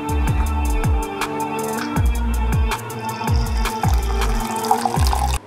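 Liquid poured from a mug during beer brewing, splashing loudly and repeatedly, with about ten distinct pours landing close up in a steady rhythm.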